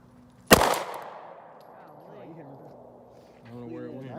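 A single sharp .22 rifle shot cracks out close by during a hunt, followed by a fading tail, with people talking quietly afterward.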